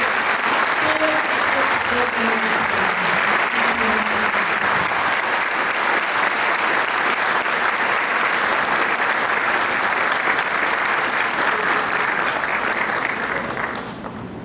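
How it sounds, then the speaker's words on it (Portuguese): Sustained applause from a seated audience at a book launch event in Portuguese, dense and steady for about fourteen seconds before tapering at the end, with faint voices underneath. "Uma salva de palmas do nosso respeito."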